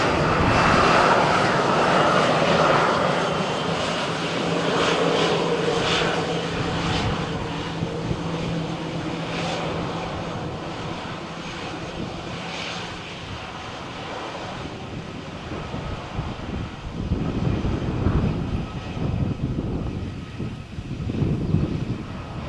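An EasyJet jet airliner departing Malaga on a stormy morning, its engines roaring loud and steady before slowly fading into rumbling wind noise, with no voices.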